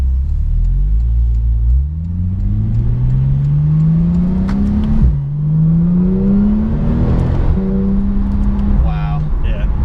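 Porsche 911 Turbo S, a 2016 model, accelerating under turbo boost, its loud engine note rising smoothly through several gears with short dips at each shift, heard close up from inside the car.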